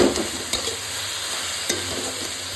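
Tomato masala with salt fries in a pan, a steady close sizzle with a few scraping stirs of a spoon across the pan.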